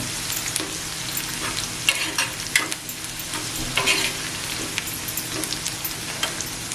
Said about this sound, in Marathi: मीठ टाकल्यावर आहे ना थोडासा असा कांदा असा परतवून घ्यायचा